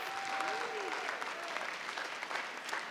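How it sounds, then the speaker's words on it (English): Steady audience applause, dense and continuous clapping from a crowd throughout, with a faint tone drifting in briefly near the start. "Let's give them all one big round of applause, please."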